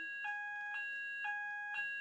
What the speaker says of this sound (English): is it a false alarm?